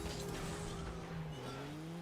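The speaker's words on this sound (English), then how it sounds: "Somebody has a really stupid engine noise equipped." Thin, high-pitched whine of a car engine in a car ball video game, held as steady droning tones that slide slightly in pitch, with a roaring game backdrop and no talking.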